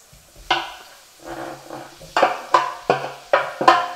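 Roasted squash for pumpkin pasta being spooned into a sizzling pan, heard as a series of sharp metallic clinks and scrapes of a spoon against the pan, close and fairly loud, over a faint sizzle.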